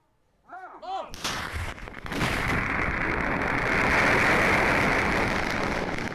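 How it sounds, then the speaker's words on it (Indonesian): A quintal of firecrackers being destroyed by police in Bangkalan, Madura, East Java explodes in a sudden, dense barrage of loud crackling bangs that keeps rolling continuously, close and overwhelming, after brief voices at the start. "inilah detik-detik pemusnahan petasan sebanyak 1 kuintal"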